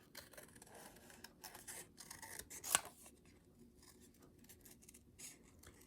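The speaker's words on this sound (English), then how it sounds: "Time to fussy cut." Scissors fussy cut around a stamped paper image for a bag topper, giving faint, intermittent close-up snips and rasps with one sharper cut, no talking.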